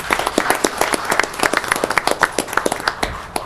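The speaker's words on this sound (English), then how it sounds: "I think John deserves a nice round of applause" A small audience at a township supervisors' meeting claps for a maintenance worker, a sparse round of individual handclaps with an uneven rhythm that continues steadily without voices.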